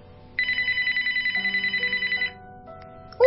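A telephone gives one trilling electronic ring lasting about two seconds, close and clear in a quiet room. A softer tone lingers briefly afterwards.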